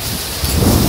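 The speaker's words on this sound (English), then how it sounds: "Wow! Heavy rain!" Heavy rain pours steadily during a thunderstorm with possible low thunder rumble, a loud, dense wash of noise over a short moment during storm chasing with trees blown over nearby.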